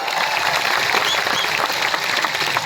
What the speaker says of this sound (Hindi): थोड़ा ताली मार दो भाई